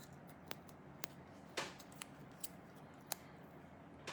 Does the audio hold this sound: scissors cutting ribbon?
yes